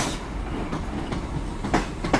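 A Southern Railway Class 455/8 electric train, unit 455813, runs on the tracks at Guildford out of service, with a steady rumble and a few rhythmic wheel clacks over rail joints, fairly close.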